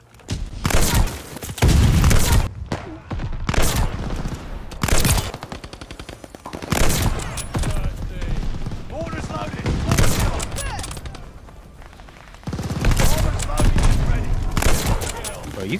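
Gunfire in the video game Call of Duty Vanguard, loud close bursts of rapid shots and booms in clusters with brief gaps, filling the whole stretch; no speech over it.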